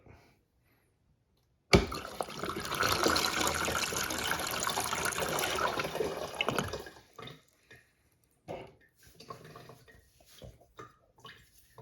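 A Space Saver toilet with a full tank flushes in a sudden loud rushing surge lasting about five seconds, then tapers into scattered gurgles and drips as the bowl drains and refills.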